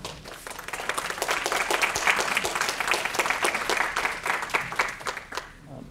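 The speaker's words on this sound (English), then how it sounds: "Can we have a round of applause for all of our partners?" Applause for partners rises from the audience at a housing justice and health equity forum, many people clapping at once in a lively, textured patter that holds steady before tapering off.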